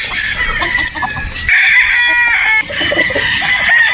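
A Boston Rounded broodstag rooster crows and clucks up close, loud continuous calling with overlapping fowl sounds in the background.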